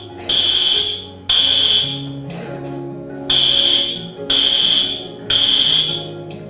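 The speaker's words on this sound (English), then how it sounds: "So in case of alarm." A building fire alarm sounds during an evacuation briefing, giving loud, close, repeated electronic blasts of about a second each with short gaps between them, and no clear talk over it.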